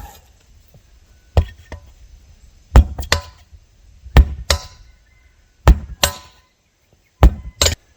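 Sharp hammer blows land in irregular pairs and singles, loud and close, separated by quiet gaps.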